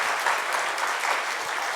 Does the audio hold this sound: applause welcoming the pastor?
yes